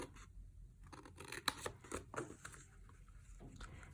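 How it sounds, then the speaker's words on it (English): Paper snips cut through a folded paper triangle, giving crisp, close snipping sounds in a few quick bursts with no talk. "we actually want to cut that triangle off using paper snips"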